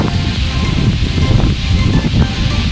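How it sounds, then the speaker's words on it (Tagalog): Steady wind roar buffets the microphone with a broad, constant rush over strong surf crashing continuously at Bagasbas Beach in Daet, Philippines, loud and unbroken throughout. "mahangin, tsaka lakas yung alon din, dire-diretso yung wave"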